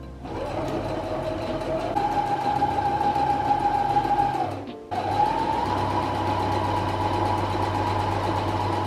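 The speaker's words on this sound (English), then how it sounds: "Now I'm gonna take this to my sewing machine, and then I'm gonna sew right here" A sewing machine stitching an apron's fabric runs in a fast, steady whir, pauses briefly, then resumes at a similar pace; no speech.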